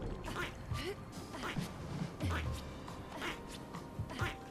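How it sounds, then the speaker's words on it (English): Gestral creatures in Clair Obscur: Expedition 33 quacking when jumped on, several short duck-like quacks scattered over a busy game soundtrack with background music. "They quack when you jump on them."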